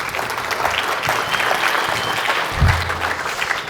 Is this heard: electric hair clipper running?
no